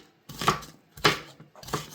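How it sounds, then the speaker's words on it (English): A knife chops onions on a cutting board in three distinct, close, fairly quiet strokes about half a second apart. "I really could use some growing in this onion chopping area."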